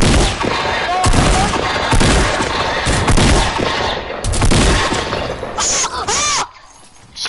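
Loud, dense gunfire in a video game shooter, rapid bursts and repeated shots packed together, with a crashing, shattering edge before cutting off near the end.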